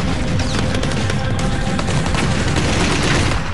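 Dense, continuous battle gunfire from a Bradley vehicle's machine gun and M16 rifles in the fight for Baghdad, a loud, unbroken fusillade of overlapping shots and bursts.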